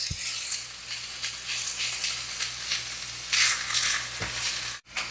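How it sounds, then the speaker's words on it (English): Rice sizzles as it is stirred in a hot pan with softened aromatics, a close, steady frying hiss broken by scraping stir strokes and a sharp clatter near the end. "You want to stir this to coat the rice."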